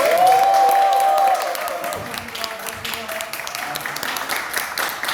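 Audience applause at a Gyeongnam provincial party special lecture by lawmaker Jeon Hyun-hee. A brief sustained tone comes first, then the hall fills with a broad, steady patter of many hands clapping.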